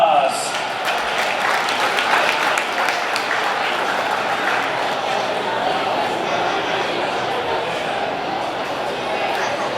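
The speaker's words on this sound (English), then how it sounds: "ladies and gentlemen, let's give him a big round of applause." Sustained applause from an audience at a speedway awards banquet held at the Wichita Union Stockyards, a steady dense wash of clapping lasting the whole time with a murmur of crowd voices underneath.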